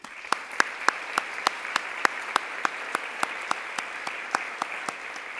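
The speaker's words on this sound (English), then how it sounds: "Please join me in applauding all of the C3E ambassadors" Applause from a crowd at an awards ceremony, with evenly spaced sharp claps standing out over a steady wash of clapping.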